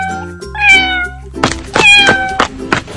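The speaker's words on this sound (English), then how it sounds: "Cat." A cat in a 3D animal video game meows twice, clear and close, the second meow louder and more drawn out, with a few dull thumps around it.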